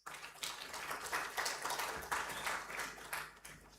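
Audience applause for government agency representatives at a human rights commission forum on safeguarding rights ahead of the 2026 elections; steady clapping with scattered sharper claps, moderately loud, no talk over it.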